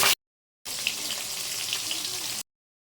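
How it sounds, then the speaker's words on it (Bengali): Fish pieces rubbed with turmeric and salt frying in hot oil give a steady, loud hiss and crackle with small pops, cutting off abruptly after a short burst at the start. "মাছটা দুটি কড়া করে ভেজে নেব।"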